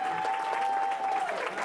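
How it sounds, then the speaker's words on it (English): A live Christmas folk concert crowd gives a big round of applause for a performer, dense clapping that stays fairly even throughout with a faint tone held underneath. "Can we have a big round of applause for Sandra?"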